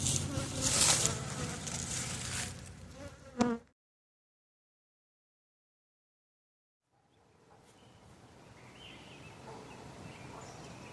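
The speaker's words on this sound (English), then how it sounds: "I got a bee that's absolutely attacking the microphone." A honeybee buzzes loudly right at the microphone at an apiary, a dense close drone that cuts out abruptly, leaving silence before a fainter outdoor hum returns.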